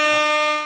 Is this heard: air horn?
yes